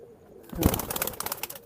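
High-flying pigeons at a sale coo in a burst of throaty calls starting just after a quiet opening, close and moderately loud, with rhythmic pulsing notes that continue to the end.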